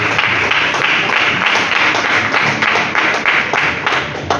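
A church congregation claps their hands for Jesus in an evangelical Pentecostal service, a loud, dense, steady applause of many hands with a rhythmic pulse throughout.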